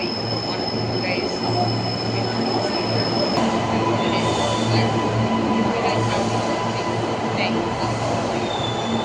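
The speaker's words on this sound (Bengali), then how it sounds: "আমাদের ট্রেন এখন ছেড়ে দিচ্ছে।" A Brisbane commuter train pulls out of Central station, heard from inside as a loud, steady rumble of wheels and motors with a high whine and faint squeals along the rails.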